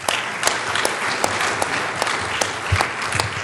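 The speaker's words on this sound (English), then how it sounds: "one more round of applause for all our speakers" Steady audience applause fills the room at a conference session on lightning and atmospheric electricity, dense and even clapping with no talk over it.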